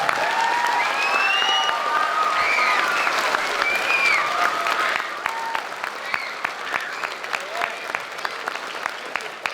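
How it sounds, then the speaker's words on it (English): Sustained clapping from a crowd at a youth football awards banquet, dense and lively with cheers and whoops at first, then thinning to scattered individual claps. "So can we get a round of applause for that?"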